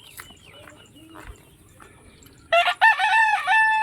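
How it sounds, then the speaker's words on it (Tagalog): A rooster crows loudly and close by from midway on, several strong harmonic calls in a row, following quieter farmyard sounds beside rice fields. "Magpaalam pa sa akin yung manok"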